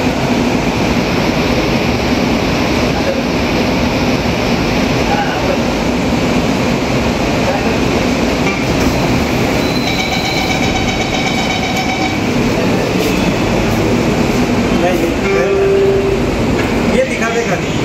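An Ahmedabad Metro train runs near Gheekata station on the Relief Road line, a steady loud rumble with rail noise and faint tonal whines throughout, while people talk quietly in the carriage.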